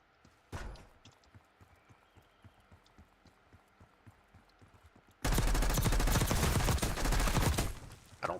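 Gunfire in Call of Duty Warzone starts as faint, steady thumping pulses after one sharp report. A loud, dense burst of close automatic fire then erupts and runs to the end.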